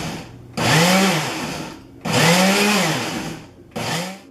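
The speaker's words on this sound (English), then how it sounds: "Then grind it all up, stems and all." A blender grinding cilantro with stems, chilies and salt into mojo verde sauce, three loud close bursts of whirring motor with short pauses between them, no voices.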